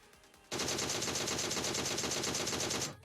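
A sustained burst of rapid automatic gunfire in the video game PUBG Mobile starts abruptly and rattles on loudly for over two seconds before stopping.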